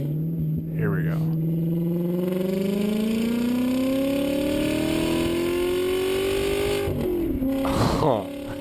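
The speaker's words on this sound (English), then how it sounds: "Sounds like it revs pretty high." A car engine played back on a video revs high, its tone sweeping steadily upward in one long continuous pull before easing off, with people talking briefly at the start and near the end.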